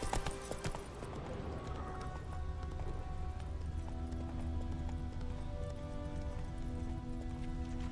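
A horse gallops in The Witcher 3, its hooves drumming in a fast, steady clip-clop rhythm at moderate loudness. Game music and ambience play underneath, with a brief burst of other sound at the start.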